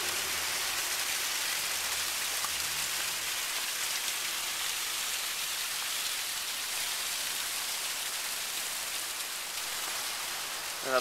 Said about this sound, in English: And here we have the waterfall.